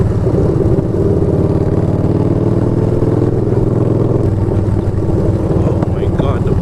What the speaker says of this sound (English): Oh, you changed your muffler? I want to hear it.